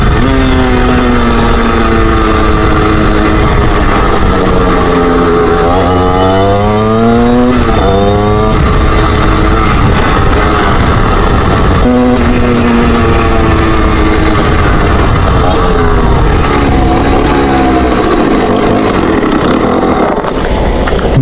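A Beta 50cc motorcycle is ridden hard at full throttle, its loud, buzzing two-stroke engine revving up and down through repeated rises and drops in pitch, close to the rider and sustained throughout.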